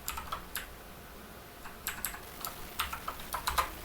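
Python code is typed on a computer keyboard in quick bursts of crisp, close key clicks, with a short pause before faster clusters of strokes, and no talk.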